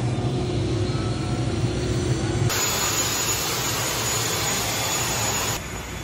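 Jet airplane engine roaring just after landing at Siargao, a loud, steady, close broadband whine and rumble that holds throughout with no voices.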